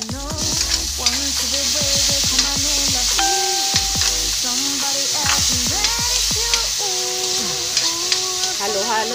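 Radish and tomato being sautéed and stirred in a pan for ginisang labanos with egg, a continuous sizzle and fry with repeated scraping stir strokes, close and steady, with no talk.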